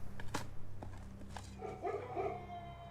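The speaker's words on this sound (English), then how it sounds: "So every time I dig, there will be a dog barking." Barking from a beagle in a kennel in the video game Blue Prince, several short yelping barks spread over a few seconds, fairly close and set against a low steady background hum.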